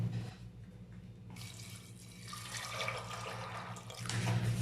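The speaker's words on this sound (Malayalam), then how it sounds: "ഇതിലൽപ്പം വെള്ളം ഒഴിച്ചു കൊടുക്കാം." Water poured into a pressure cooker holding chickpeas, a close, steady splashing pour that builds and grows fuller over several seconds, heard alone without talk.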